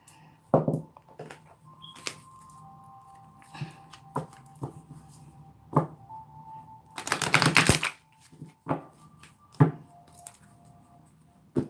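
A deck of tarot cards riffles and snaps in short bursts with clacks and taps in between, one long loud shuffle near the middle, close by with no talking.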